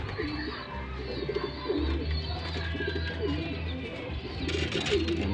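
Pet pigeons cooing softly in a loft, low repeated coos from several birds over a steady background hum, with no talking.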